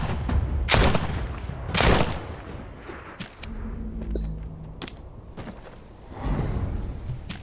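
Gunfire in the video game Walking Dead: Saints & Sinners, several sharp shots at irregular intervals, loud and close, with softer thuds and footsteps between them.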